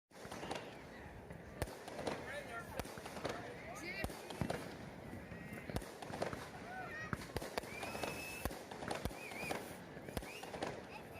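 Fourth of July fireworks pop and crackle at a distance in irregular bursts, with faint background voices and crowd noise throughout.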